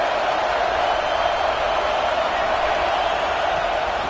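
A football stadium crowd roars steadily, a broad, sustained wash of massed voices that stays loud and even throughout.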